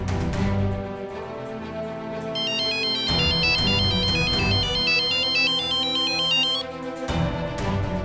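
A telephone rings in a Hindi TV drama scene, its repeating electronic ringtone melody sounding steadily and fairly loud over a soft musical background, with no one talking.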